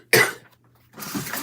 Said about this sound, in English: I am starting to have these little coughing fits every couple of breaths